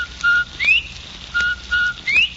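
Five clear, bright whistled notes imitating a bobwhite quail call, some steady and some sliding upward, in an irregular sequence, loud and close with little else behind them.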